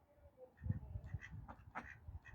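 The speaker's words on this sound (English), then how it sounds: "They're my 3 ducks." Garden ducks give several soft, raspy quacks in irregular bursts at close range, faint overall, with no talking.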